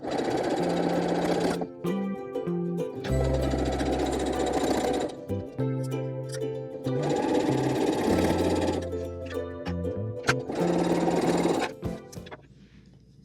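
Sewing machine running a quilt block seam down the side in three or four bursts of rapid needle stitching, each with a low motor hum, separated by brief pauses and ending quiet.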